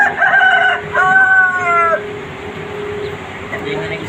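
Chickens on a poultry farm give two drawn-out, harmonic calls close by in quick succession, followed by quieter farmyard background noise with faint hum.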